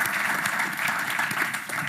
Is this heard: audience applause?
yes